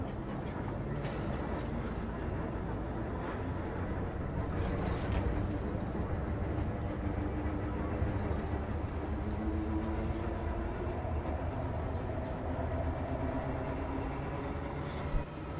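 A tramway in the video game Cronos: The New Dawn rumbles along steadily with a continuous, loud rolling drone and metallic undertones, unbroken for the whole stretch.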